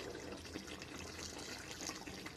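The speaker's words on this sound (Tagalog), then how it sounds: "Lalagyan natin siya ng mainit na tubig." Hot water poured into a pot of chicken salona, a continuous close splashing and trickling pour at moderate level, running steadily with no voices.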